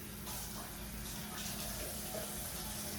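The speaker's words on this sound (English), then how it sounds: "we are going to rinse these onions off again" Water runs steadily from a kitchen tap as onions are rinsed, a continuous broad hiss and splash lasting throughout, close and fairly loud, with no one talking.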